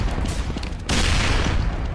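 A sudden loud explosion bursts out in the Dawn of War video game about a second in, cutting through a dense rumble of ongoing battle gunfire and noise.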